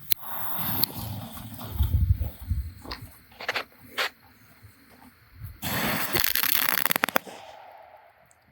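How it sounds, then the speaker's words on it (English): 100-count Mega Banger firecrackers explode in quick succession, sharp loud cracks clustered in bursts with short gaps, ending in a dense rapid volley. "Extremely fast, extremely loud."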